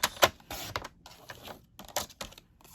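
Paper is trimmed for a junk journal, producing a cluster of short, sharp, close snipping and crinkling clicks in irregular bursts, with quiet gaps between them.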